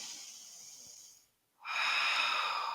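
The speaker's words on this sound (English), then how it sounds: "In through the nose and out through the nose." Deep breathing in and out through the nose during a quadriceps stretch, one long airy exhale, a brief silence, then a strong hissing breath, close and clear with no talking.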